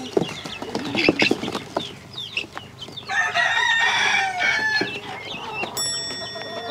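A chicken calls repeatedly near the microphone over a busy farmyard background, with clucks and a longer crowing-like phrase in the middle, and no talking.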